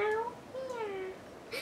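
A voice imitates a cat's meow for a plush Marie kitten toy bought at Disney, giving two drawn-out, pitch-bending meows close to the microphone with a brief pause between them.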